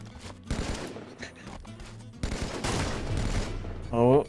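Pulse rifle fire in Halo 5 Guardians, several loud bursts of rapid shots in quick succession with a rising whine at the end, heard over game noise.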